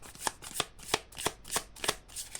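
Tarot cards are shuffled close by in seven quick, rhythmic riffling bursts, each a crisp papery flutter with a short gap before the next.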